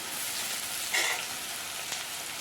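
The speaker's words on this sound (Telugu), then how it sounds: "అల్లం వెల్లుల్లి పేస్ట్ ఇప్పుడు బాగా వేగింది కదా" Ginger garlic paste sizzling with browned onions in a pan while a chicken gravy curry is prepared, giving a steady close hiss with a brief stirring scrape near the middle.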